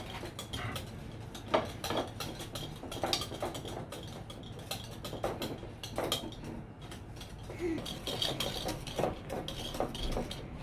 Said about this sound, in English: why don't you add in the brown sugar little by little?